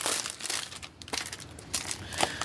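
A taped-up package is opened up close, with crinkling and crumpling plastic and paper in short, irregular bursts.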